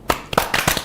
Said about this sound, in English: Let's give a round of applause to Magdalene.